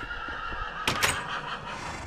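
A Minecraft horse neighs in a short, bright burst around the middle, with a brief second cry right after, set over a steady mid-level game background hum.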